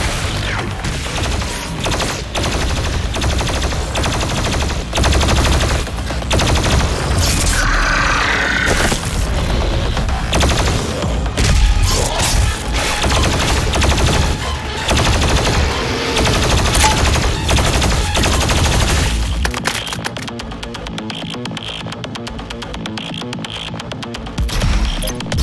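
The BFG 10000 in DOOM Eternal roars continuously at high volume, a dense mechanical grinding and ratcheting barrage that holds for about twenty seconds before easing into a quieter rumbling tail.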